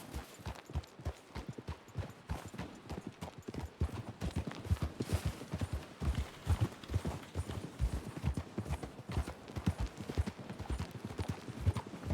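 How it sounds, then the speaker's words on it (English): Horse hooves clip-clop in a steady, continuous rhythm as a rider travels across the map in a medieval role-playing video game, the trotting loud and close throughout. "I just like the horse riding. I like riding horses in a game."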